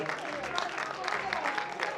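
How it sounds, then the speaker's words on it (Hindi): Audience clapping at a charity foundation event at the Lahore Arts Council, fairly soft and distant, continuing steadily through the short stretch with a faint murmur underneath. "बहुत ज्यादा तालियां होनी चाहिए ख़वातीन और हज़रात।"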